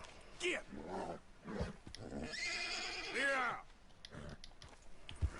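A horse in Red Dead Redemption 2 whinnies and snorts, one drawn-out neigh rising then falling in the middle, mixed with scattered clicks and a voice in the background.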